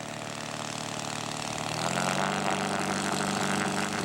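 Scale model aircraft, a 70-pound Demoiselle replica, makes a touch and go at an outdoor scale aircraft show. Its engine drones steadily and loudly throughout, rising in pitch and power partway through as it opens up to climb away.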